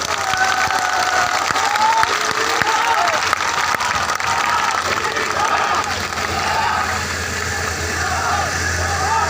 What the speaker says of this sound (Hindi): अरे ये सुमावली की ताली तोड़ी है